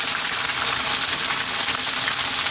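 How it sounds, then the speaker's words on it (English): Chopped red onion sizzles hard in a pan over high heat as part of a hot chicken curry, a loud, steady, close frying hiss with no break throughout. "Now we're going to drop in our onion."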